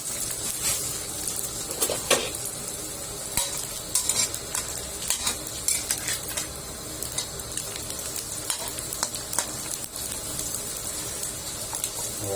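Sun-dried fish frying in hot oil, a steady dense sizzle with crackling pops and spatters, close and continuous, with occasional stirring clatter.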